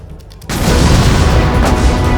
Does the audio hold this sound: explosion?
yes